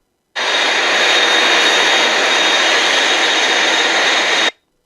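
A private jet engine on an executive airport tarmac gives a steady, loud, broadband roar that starts abruptly, holds constant for about four seconds and then cuts off.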